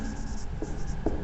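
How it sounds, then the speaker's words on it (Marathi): Chalk scratching out numbers on a classroom blackboard during a maths lesson, a few short strokes and taps over steady background hiss, fairly quiet and close. "प्रश्न लिहितो मी फळ्यावरती"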